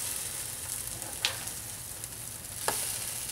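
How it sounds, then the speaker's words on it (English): French toast fries in a pan over medium heat, a soft continuous sizzle with two brief sharp ticks from the utensil and no voices. "So now we have our French toast getting very close to being ready to be flipped"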